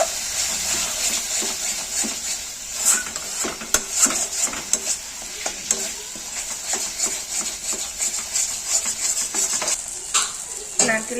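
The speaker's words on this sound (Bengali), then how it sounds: "ভালো করে মশলাটাকে কষিয়ে নেব।" A masala paste of ground poppy seeds and cashews, loosened with a little water, is stir-fried in a pan for prawn malai curry, with continuous sizzling under repeated close spoon scrapes and clinks against the pan.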